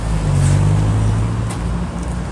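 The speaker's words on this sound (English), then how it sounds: "I know it's probably loud with all the traffic" Steady road traffic rumbles nearby outside a courthouse, a continuous loud low engine drone with a passing car swelling briefly.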